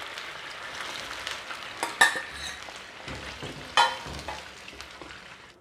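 Cooked rice being stirred into curd in a pan with the stove switched off, soft wet scraping and squelching with two sharper clinks of a spoon against the pan, fairly quiet and close.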